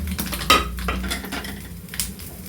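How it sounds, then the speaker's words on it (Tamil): Mustard seeds and chillies go into hot oil in a pan for brinjal kosthu, giving close metallic clinks and a sharp clatter, then soft crackling over a low kitchen hum with no talk. "இப்போ கடுகு போடுறோம்"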